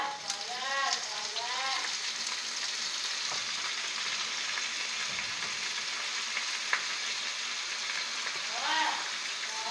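Onion and marinated chicken sizzle and fry in a pan, a steady crackling hiss with occasional stirring scrapes, while someone talks over the cooking now and then.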